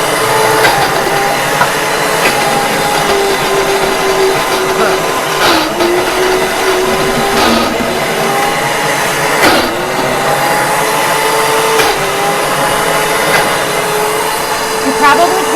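A Princess House high speed blender running at full power while mixing homemade hummus, a loud, sustained whirring motor whine with pitch wobbles and rhythmic thumps as the mixture churns, steady throughout.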